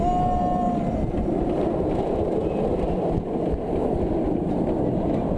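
A roller coaster at Busch Gardens Tampa Bay roars along its track in a steady, loud rumble with wind buffeting the microphone, heard from the back row on an inverting ride.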